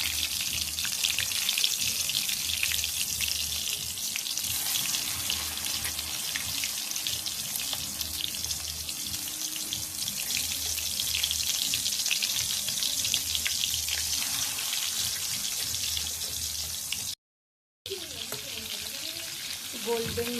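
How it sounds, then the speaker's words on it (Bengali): Chicken chakali kababs fry in oil over a medium flame, a continuous loud sizzling hiss with bubbling texture, broken briefly by a short gap near the end. "গোল্ডেন ব্রাউন করে ভেজে নেব।"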